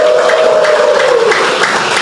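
Church congregation bursting into loud, dense applause for the Lord, a steady wash of clapping mixed with shouts and cheering that fills the room for the whole stretch.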